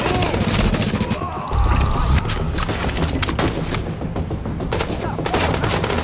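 Gunfire in The Division video game, shots punching through a barrier: dense, rapid automatic bursts and booming impacts pile up continuously, loud and close, with brief crashes and thuds mixed in.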